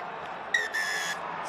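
A referee's whistle sounds at an under-20 rugby match in a national stadium: one sustained shrill blast, partly masked by a loud, steady crowd roar.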